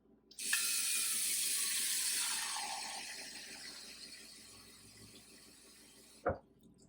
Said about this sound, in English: go ahead and fill that dish with some warm water